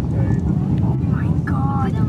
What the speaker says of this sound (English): Booster ignition and liftoff.